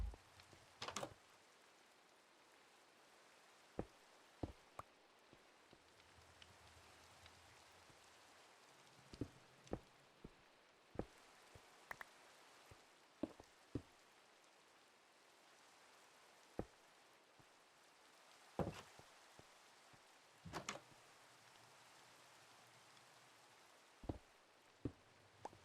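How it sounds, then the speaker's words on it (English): Rain in Minecraft falling as a faint, soft steady hiss, broken by scattered quiet clicks and taps throughout, with no one talking. "Oh yeah, it's raining."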